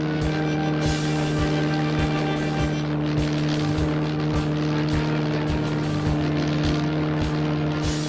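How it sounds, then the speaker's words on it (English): A float plane's propeller engine drones steadily at close range with a strong, even low hum and regular pulsing beats, alone with no talk. "Float plane."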